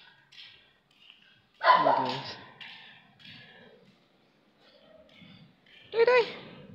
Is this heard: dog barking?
yes